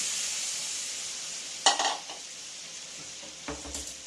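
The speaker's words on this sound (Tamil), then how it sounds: "கொஞ்சம் பட்டர் ஆட் பண்ணிவிட்டு நம்ம பன்னீரை ஃப்ரை பண்ணிடலாம்" Paneer cubes fry in melted butter in a pan, a steady soft sizzle with a sharper burst of spatter and utensil clatter midway and another brief clatter near the end.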